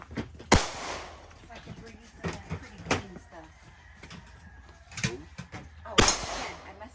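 A Desert Eagle .50AE pistol fires at an outdoor range: sharp, loud gunshots ring out near 0.5, 3, 5 and 6 seconds, set apart by gaps, with quieter clatter and handling noise between them.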